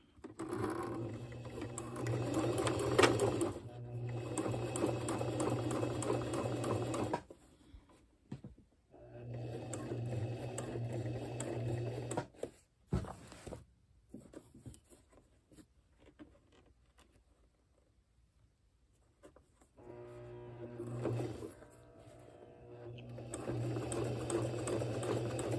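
A sewing machine stitches slowly through fabric while shortening long pants, running in steady whirring stretches broken by pauses and small clicks, loud and close with no voices.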